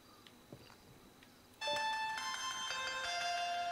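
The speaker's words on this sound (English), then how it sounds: "電話。" A mobile phone ringtone in Grand Theft Auto V starts suddenly after a near-silent stretch, then plays a steady, loud melodic ring of bright repeating tones.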